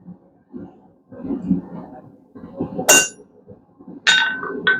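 A hammer strikes a blacksmith's chisel while slitting metal for a bottle opener: two sharp, ringing metallic blows spaced about a second apart stand out over low, muffled background rumble.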